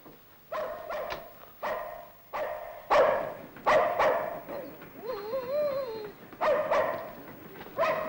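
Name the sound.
dog barking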